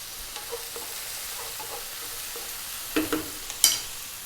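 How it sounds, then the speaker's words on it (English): Sea bass fillet and tomato frying over high heat with oregano: a faint, steady sizzle, with a few brief spatula scrapes and a sharp clink near the end. "Cook this for just 4 minutes, 3 or 4 minutes, stirring pretty much all the time"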